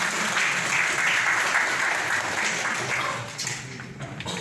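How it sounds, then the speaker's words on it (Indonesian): A large audience applauds President Joko Widodo, a full, loud burst of clapping that holds steady and then tapers off into scattered claps near the end. "Kita tepuk tangan untuk Bapak Presiden."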